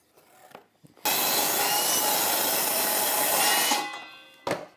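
A saw cuts a wooden piece for a winter birdhouse, a loud, continuous rasping cut lasting about three seconds, bracketed by a few brief knocks of handling.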